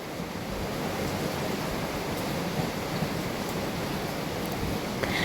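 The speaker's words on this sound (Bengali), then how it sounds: "এভাবে আমি ডোনাটগুলো খুব ভালোভাবে ভেজে নিব।" Donuts deep-fry in hot oil with a continuous, even sizzling hiss close by, steady and unbroken throughout, with no talking.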